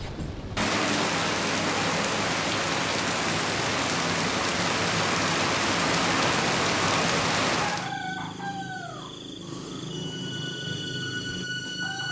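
Heavy rain pours down steadily and loudly on a late evening in Quế Phong, a dense continuous roar that suddenly drops away after several seconds, leaving a quieter wet backdrop with a rooster crowing in the distance.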